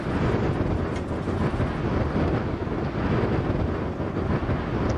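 Steady broadband wind rush through open cockpit windows of a simulated vintage transport aircraft in the Prepar3D flight simulator, continuous and loud with a low rumbling undertone throughout, no speech.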